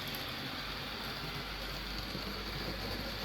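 HO scale F unit locomotives, Santa Fe units, run on a 50-year-old Atlas 4x8 layout, giving a faint, continuous whirring rumble with no breaks.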